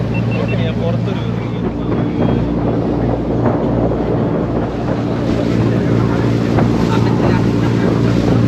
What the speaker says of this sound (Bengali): স্পিড বোট দেখুন কত দ্রুত গতিতে আমাদের চোখের সামনে বেরিয়ে গেল